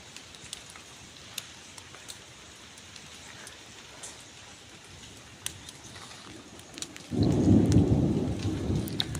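Monsoon rain in the Konkan countryside under a dark sky, a steady light patter with scattered drops, then a deep loud rumble of thunder rolling in over the last couple of seconds.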